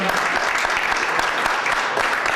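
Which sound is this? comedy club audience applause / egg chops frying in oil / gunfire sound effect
comedy club audience applause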